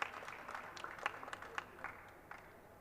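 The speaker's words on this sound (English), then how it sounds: "give these 2 partners and all the partners above us a big round of applause" A small audience at a closing event in a pavilion in Sharm el-Sheikh applauds its partners, with brisk, scattered clapping that fades out over a few seconds.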